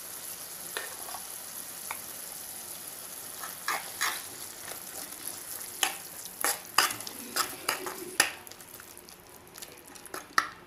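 Ground masala paste frying and being stirred into a ridge gourd curry with tomatoes, steady soft sizzle with repeated spoon scrapes and clinks against the pan, busier toward the end, no talking.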